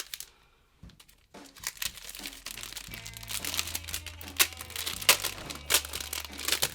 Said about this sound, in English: plastic noises abound